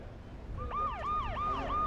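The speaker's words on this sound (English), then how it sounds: "Ryan will play our police sirens that we have been hearing all season long" Police siren effect played over a race track's public address system, wailing in repeated rising and falling sweeps that start partway in and continue steadily against a low rumble of background noise.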